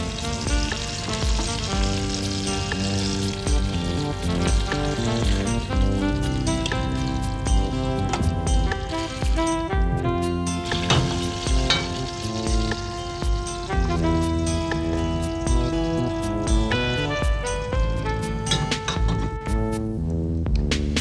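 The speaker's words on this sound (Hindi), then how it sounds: "Put ghee in a pan and fry meat pieces till they turn brown." Meat pieces fry in hot ghee in a pan for a jungli gosht dish, a steady, loud sizzle and crackle running through the whole stretch, with tonal music playing over it.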